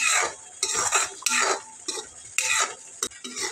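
Tomato masala paste being worked through hot oil in a pan, with repeated rhythmic scraping and stirring strokes and spoon clatter against the pan, close and fairly loud, faint sizzle underneath, no voices.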